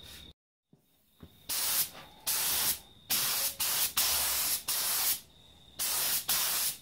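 Paint sprays onto a motorcycle fuel tank in a series of about eight short, loud hissing passes separated by brief pauses, close to the listener and with no talking.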